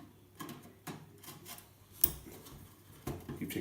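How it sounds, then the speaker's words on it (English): A screwdriver backs screws out of an old vintage PC case with aluminium parts. It makes close, quiet scraping and rasping with small metallic ticks at irregular moments. "Keep taking these screws off."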